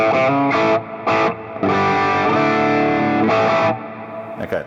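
Electric guitar played through an MVave Tank-G pedal on its second preset, a distorted, somewhat boxy tone with a few short chord stabs followed by a longer sustained chord that rings out and fades.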